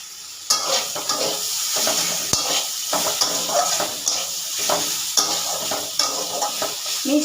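Ridge gourd fries with poppy seeds and a little sugar in a pan, a loud close sizzle under repeated rhythmic scraping and stirring strokes of a spatula, with no talk.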